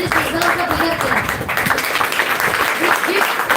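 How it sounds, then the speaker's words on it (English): A devotional talk audience breaks into steady, dense applause that fills the room, with speech audible underneath the clapping throughout. "This deserves a bigger clap."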